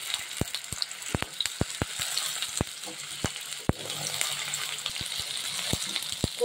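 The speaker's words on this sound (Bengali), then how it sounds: "কড়াইতে আমি একটুখানি তেল দিয়ে এই যে কচু আর আলুগুলো কেটে রেখেছিলাম না, কচু আর আলুগুলো দিয়ে দিই।" Cut taro and potato pieces hiss steadily in hot oil in a wok, with sharp clicks of a spatula scraping and tapping the metal pan at irregular intervals throughout.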